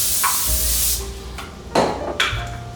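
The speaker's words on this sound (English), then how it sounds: "All right, I've got my Pam spray." Pam cooking spray hissing from its can in a kitchen, one long close spray followed by two shorter sharp bursts, with light clatter and low background hum between.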